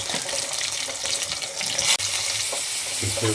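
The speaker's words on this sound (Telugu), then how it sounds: "మూకుల్లో నూనె వేడయ్యాక ఆవాలు మెంతులు మిరపకాయలు వేయాలి ఉల్లిపాయలు" Mustard seeds, fenugreek, chillies and onions fry in hot oil for a taro root stew, giving a loud, steady sizzle with crackles and a brief clatter partway through.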